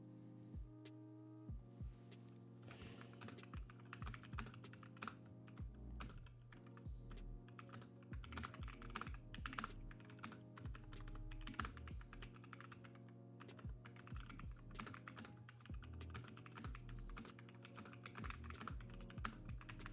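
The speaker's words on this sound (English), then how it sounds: "I'm just typing into my D&D chat quick." Rapid keyboard typing clatters steadily for about twenty seconds while someone enters a message into a Dungeons & Dragons group chat, the keystrokes close and continuous over a low background hum with no talking.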